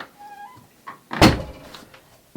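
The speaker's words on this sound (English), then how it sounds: "I'm going to close the door, Emma." A root cellar door swings shut with one loud, close thunk in the middle, preceded by faint creaks and squeaks and followed by a small knock at the end.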